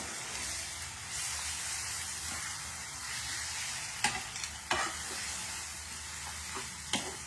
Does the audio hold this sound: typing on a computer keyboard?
no